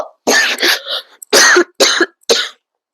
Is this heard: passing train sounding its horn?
no